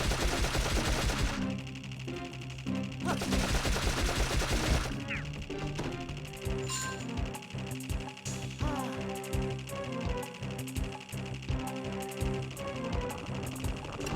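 Rapid gunfire rattles from a weapon fired while the character moves in the video game Dark Cloud, with bursts of fast repeated shots set against a game music bed.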